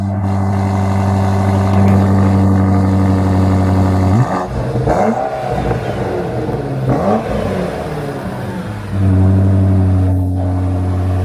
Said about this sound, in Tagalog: galing sa isang BMW SUV ang tunog na yan